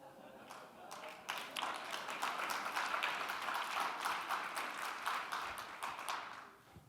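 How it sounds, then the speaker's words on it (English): Conference audience at a keynote address breaking into applause, faint and spread out through a large hall, swelling after a second and holding as a steady rush of clapping before easing off. "Huge applause for the Greek Orthodox Church."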